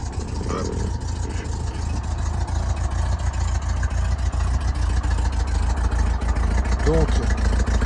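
A 1969 Karmann Ghia Type 34 air-cooled engine turning over and settling into a steady, slightly uneven idle, loud and close throughout with a faint voice briefly underneath.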